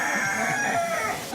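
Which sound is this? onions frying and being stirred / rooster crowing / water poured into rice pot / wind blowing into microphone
rooster crowing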